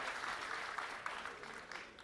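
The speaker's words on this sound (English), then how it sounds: "big round of applause here" Audience applause at a sports officiating foundation event before a flag football panel: a short burst of steady, moderately distant clapping from a crowd, with a few sharper claps standing out.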